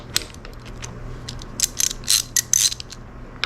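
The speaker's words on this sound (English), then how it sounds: "I want to break that bolt free." A 12mm ratchet wrench clicks in quick bursts while breaking a bolt free on a Honda Goldwing brake reservoir, with close, crisp pawl ratcheting that grows louder toward the end.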